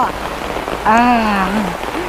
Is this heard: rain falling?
yes